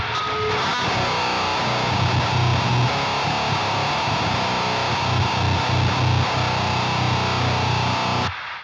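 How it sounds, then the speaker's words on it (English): A Boss HM-2 Heavy Metal pedal with every knob maxed drives an electric guitar into a buzzing, chainsaw-like distorted tone. Dense, loud, steady riffing runs alone for several seconds before stopping abruptly. "a chainsaw sound is the Boss Heavy Metal all knobs on 11"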